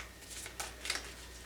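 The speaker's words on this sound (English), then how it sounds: "See if I can shuffle without them flying all over the place." Tarot cards being shuffled by hand, a few soft riffling bursts and papery flicks, faint and close.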